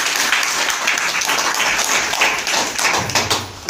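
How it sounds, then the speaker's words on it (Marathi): Audience applause at a senior citizens' legal awareness event, with dense, continuous clapping from many hands, fairly close and loud, fading slightly toward the end. "टाळ्यांचा गजर करू."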